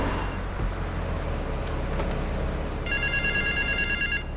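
A telephone rings in Grand Theft Auto III at a phone in West Belleville Park, a rapid electronic trill starting late over steady loud car and traffic noise.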